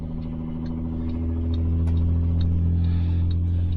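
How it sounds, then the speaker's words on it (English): The transmission of a broken-down car spins while a tow truck pulls it with the front end chained up, a loud, steady low drone and rumble with light clatter that builds slightly. "you can hear the transmission still spinning"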